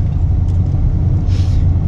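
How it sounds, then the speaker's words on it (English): Steady, loud tire roar from a pickup truck fitted with a leveling kit and aftermarket wheels and tires, cruising on the interstate, heard from inside the cab as a constant low rumble with no talking. "Interstate driving, you can hear a little bit of the tire."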